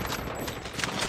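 Rapid, sustained gunfire from a battle in a shooter video game, a dense continuous crackle of shots filling the whole moment with no pauses.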